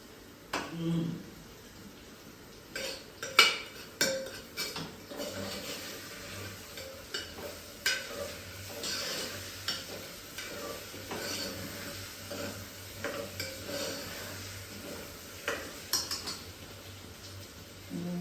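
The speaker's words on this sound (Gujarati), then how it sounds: "મિક્સ રાખીને થોડી વાર સાંતળી લેશું." Karela (bitter gourd) with cashews being stirred and sautéed in a pan, a spoon scraping and clinking against the metal in irregular bursts over a faint steady sizzle, with soft talk now and then.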